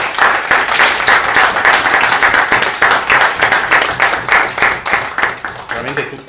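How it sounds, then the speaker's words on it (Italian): An audience applauds at a candidates' meeting in Rivarolo Canavese, with dense, steady clapping close by that holds for several seconds and thins out toward the end. "io vi farei anche un applauso"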